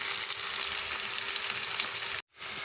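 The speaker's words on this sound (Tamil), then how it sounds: "ரெண்டு நிமிஷம் வதங்க விடுவேன்" Chili and tomato for a tomato chili curry sizzle steadily in a hot pan, a loud, continuous frying hiss with no talk, breaking off abruptly near the end before resuming.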